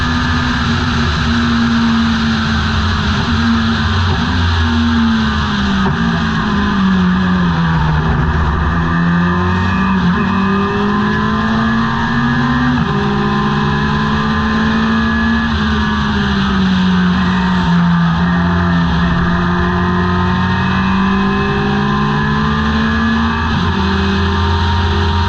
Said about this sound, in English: it's a drag race up the hill under the Corvette bridge